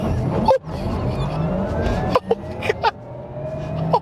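A 2020 Porsche Taycan Turbo S accelerates hard in second gear, giving a steady electric whine and road roar that builds continuously from inside the cabin, broken by a few brief sharp clicks.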